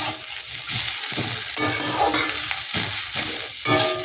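Potato snack mixture with chopped coriander being stirred and tossed in a pan, a steady scraping and mixing with faint sizzle underneath, continuous and close.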